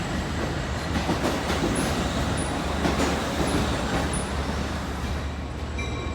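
An LIRR Oyster Bay train led by DM30AC locomotive 505 rolls into New Hyde Park station, a loud continuous rumble of wheels and rail noise with faint clicking and brief high squeals, no voices.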